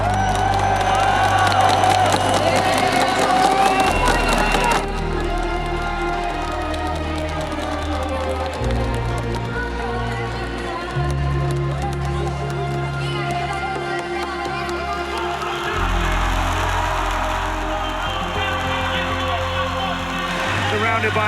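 A Brazilian crowd at an esports final in Rio roars and cheers continuously, loud and dense, with chanting and shouts layered under music-like thumps and a voice speaking over it.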